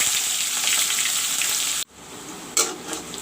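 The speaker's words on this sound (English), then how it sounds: "while the onion and the green chili is getting brown" Onions and green chili fry in hot oil in a karai, giving a loud dense sizzle that cuts off abruptly, then resumes more faintly with a brief stirring scrape.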